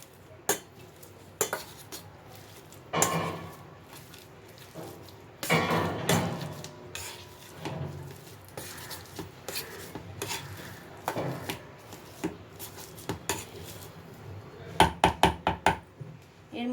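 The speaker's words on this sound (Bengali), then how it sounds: "আমি এখন আলুটা ম্যাশ করে নিচ্ছি।" Boiled potatoes being mashed for aloo bora in a home kitchen, with soft irregular scraping, pressing and clinking of utensil against bowl, quiet and close, ending in a quick series of taps.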